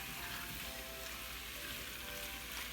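Chicken pieces sizzle steadily in hot infused oil in a pan, a loud, continuous frying crackle with no talking, for chicken and dumplings.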